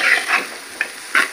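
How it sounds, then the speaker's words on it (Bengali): Rice for tehari fries in a pot with meat, a few short scraping stirs and soft sizzling bursts at close range, with no talk. "চালটা এখানে ভাজা হচ্ছে"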